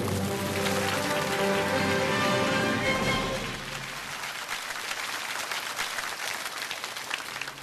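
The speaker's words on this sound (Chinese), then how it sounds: "掌声有请姚凯为我们开讲。" A studio audience applauds a guest, an air force fighter pilot, taking the stage on a Chinese television talk show; dense, loud clapping fills the first three seconds, then thins to a softer, sustained patter.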